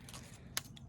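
Pruning shears make a single crisp snip while trimming the leaves off a rose cutting cane, with faint rustling before and after.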